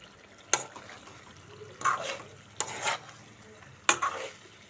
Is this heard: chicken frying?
yes